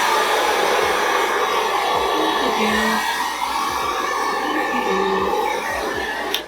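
A hair dryer blows hair dry at the roots, a loud, steady whooshing hum that runs the whole time with faint handling noises beneath.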